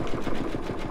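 An embroidery machine stitches out a Kreative Kiwi design, a steady fast rhythmic whirring patter of needle strokes, close and continuous throughout.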